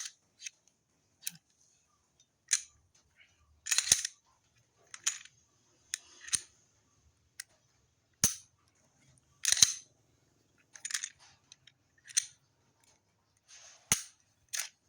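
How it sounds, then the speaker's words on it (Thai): A handgun, a Glock 19, is taken apart after test firing, giving a sparse series of sharp metallic clicks and snaps from slides and parts, scattered irregularly across quiet gaps. "เดี๋ยวจะทำการถอดปืนแล้วครับ"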